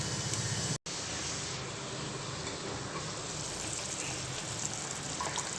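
A pot of tamarind curry with elephant foot yam bubbles and simmers with a steady soft hiss and gentle popping, continuous throughout with one brief dropout.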